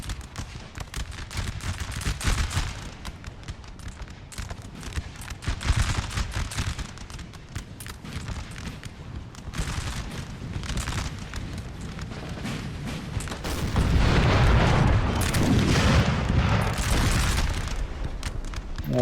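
Cannon artillery fire in Napoleon Total War, with canister or cluster shot aimed at enemy artillery: a dense, continuous battle din of booms and gunfire cracks that swells louder toward the end.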